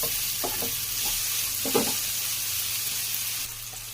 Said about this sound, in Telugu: ఇప్పుడు టమాటాస్ వేసుకోవాలి